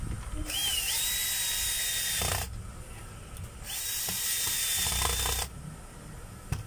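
Screws are being tightened with two whirring, buzzing bursts from a driving tool, each lasting about two seconds with a short pause between, heard up close over a low background rumble.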